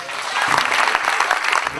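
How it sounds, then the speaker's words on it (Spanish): A short burst of audience applause at a Verano en Familia summer concert, dense clapping with some crowd voices mixed in. "yo quise que junto a ustedes también brindarle un gran aplauso a don César Martínez."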